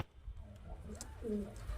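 Kalshira or Highflyer Giribaz pigeons in a loft coo softly in a short, low, rolling phrase.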